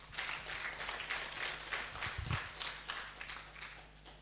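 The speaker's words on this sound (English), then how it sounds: "Can we clap again?" Faint audience clapping at an indoor report launch on malaria in Uganda, a steady patter of many hands with a brief louder thump in the middle, heard at a distance.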